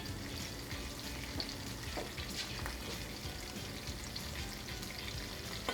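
Garlic and guindilla peppers cooking in olive oil in a pan, giving a steady, dense sizzle and crackle with faint stirring, close by and unbroken, no voices.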